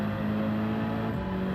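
Car engine in Gran Turismo 7 holding a steady, droning tone with a mild rise in pitch, loud and continuous for a moment with no voices over it.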